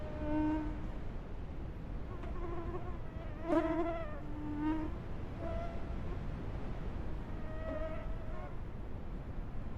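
Mosquitoes whine at a hunting spot in the dark before sunrise, several thin tonal buzzes rising and fading close by over a soft background hiss, with no talk.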